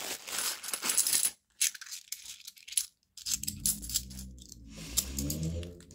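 A bag of £2 coins tips out onto a pile, sending bursts of close metallic clinking and jangling that stop briefly and then come back in a longer cascade.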